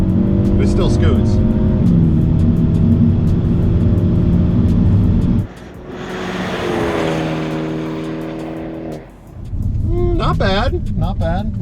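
A car launches and accelerates hard in eco mode at a drag strip, engine note climbing steadily through gears with a brief lift between shifts, loud and close throughout.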